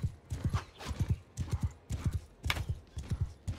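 A horse gallops in the medieval combat game Bannerlord, with quick, even hoofbeats repeating close and clear throughout and a brief whinny-like accent partway through.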